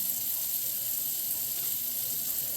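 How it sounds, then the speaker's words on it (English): Tap water runs in a steady, continuous hiss at close range while nylon mesh is being tie-dyed with acid dyes, with no one talking over the flow. "You can hear my water running because apparently I'm wasteful too."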